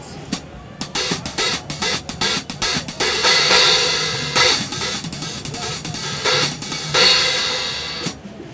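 A run of strikes and crashes on 15-inch Zildjian K Custom Special Dry cymbals, some quick and some left to wash and ring, loud and close with no talking.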